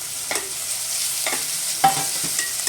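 Onions sauté in a pan with ginger garlic paste while preparing vaazha thandu koottu: a steady bright sizzle with a few soft scraping stirs, close and continuous, with no talking.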